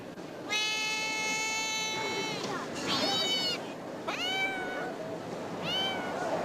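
An unhappy cat lets out four drawn-out, wavering meows close by, each one rising and falling in a plaintive whine with short pauses between.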